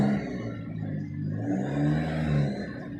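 A car with an aftermarket downpipe exhaust idles close by, a steady low burbling drone with slight rises and falls in pitch, heard alone without talk.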